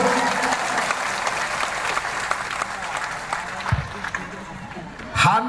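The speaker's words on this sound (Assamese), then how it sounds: "সকলে দীঘলকৈ হাত চাপৰি এটা দিয়ক" A crowd at a rally claps at length, with dense applause that is loud at first and then eases slightly, along with some crowd noise and a brief voice near the end.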